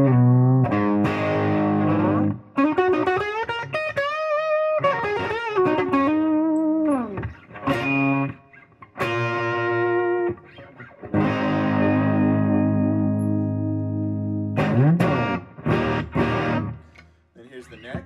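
Xaviere XV-610 electric guitar played clean through a spring reverb: sustained strummed chords and picked notes ringing out with short breaks, with someone talking between passages.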